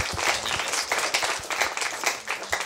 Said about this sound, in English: A round of applause for both sides.